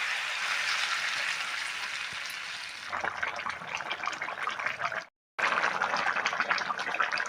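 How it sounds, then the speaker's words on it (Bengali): About a cup of water pours into a pot of taro stolons, sweet pumpkin and loitta dried fish, a steady close splashing hiss that changes tone partway, breaks off briefly, then resumes. "এখন আমি 1 কাপের মতো জল দিয়ে দেব।"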